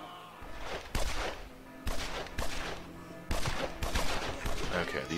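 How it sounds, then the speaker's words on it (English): Gunfire in the game Evil Genius, with loud sharp bursts of shots coming at irregular intervals over a steady layer of background noise, some shots close together. "Now they're gonna all get shot."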